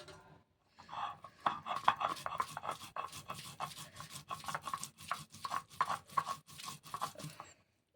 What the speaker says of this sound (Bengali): এইভাবে করে কচুটা বেটে নেব